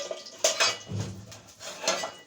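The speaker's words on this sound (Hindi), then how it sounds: "गाइस आज मैं बर्तन लेके आई हूँ, ये देखें माशाल्लाह से।" Newly bought metal pots and plates clatter and clink as they are handled, with sharp bright knocks and scraping in irregular bursts, close and fairly loud, with no talking.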